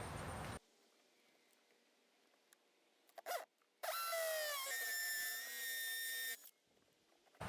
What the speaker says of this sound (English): So I will go ahead and drill my first hole.